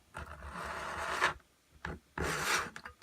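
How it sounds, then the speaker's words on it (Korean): A hand saw cuts through a plastic part of a large-scale Bandai Mega Size Unicorn Gundam model in two short bursts of steady rasping strokes, close up, with a brief pause between them. "그 기준으로 조금씩 톱질을 해갑니다"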